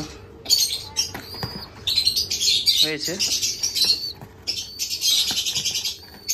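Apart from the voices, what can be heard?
white pigeon chicks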